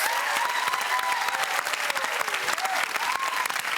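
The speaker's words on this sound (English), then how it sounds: "Round of applause for our AAA operators." Studio audience at a TV game show applauds for the AAA operators, a dense, steady burst of clapping filling the whole stretch at full level with no pauses.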